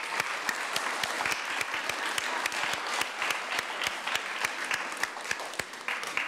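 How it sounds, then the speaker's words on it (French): Steady audience applause at a participatory budget results unveiling in Dieppe, 2015, dense clapping from a crowd, even and sustained from start to finish. "une autre bonne main d'applaudissements pour tous ces gens que j'ai nommés tantôt aussi"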